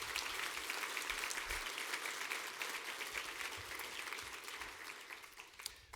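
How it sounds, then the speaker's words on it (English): An audience at a city address applauds in a long, steady round of clapping at low volume, heard from a distance and slowly fading. "Let's give a round of applause to Catholic Central"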